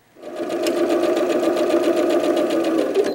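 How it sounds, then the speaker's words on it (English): A sewing machine stitches a quilt block row, its needle running in a steady rapid whir for about three seconds, close and clear with no talking. "Then let's sew that last row."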